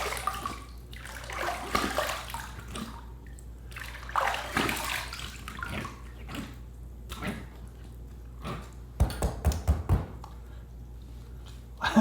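Water rinsing during a wet shave at a sink, splashing and running water in uneven bursts close by, with a cluster of sharp splashes and taps near the end.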